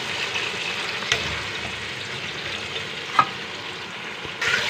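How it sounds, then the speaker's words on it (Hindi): Chicken frying over high heat in a ground masala of browned onion: a steady, moderate sizzle with a few sharp stirring knocks against the pan. "इसमें हम चिकन शामिल कर देंगे और इसको फ्राई करेंगे।"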